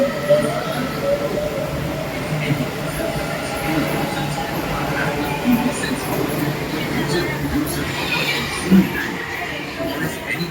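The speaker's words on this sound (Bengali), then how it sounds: "ছেড়ে দিল মেট্রো" A Kolkata metro train rumbles and hums steadily as it pulls away, with a faint squeal of wheels and background voices.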